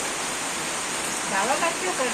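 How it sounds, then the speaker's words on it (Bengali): Steady rain pours outside a village house, a dense even hiss filling the whole clip, with a voice briefly speaking over it near the end. "বাইরে যে বাইরে যে বৃষ্টি, আর মা এখানে রান্না করে মুরগির মাংস খাইতেছে।"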